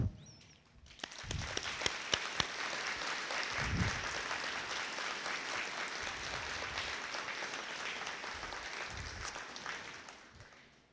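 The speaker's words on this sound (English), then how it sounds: "Can you guys stand up just real quick so we can give you a round of applause?" A crowd at a police academy graduation applauds steadily for several seconds, a dense wash of clapping that swells and then tapers off at the end.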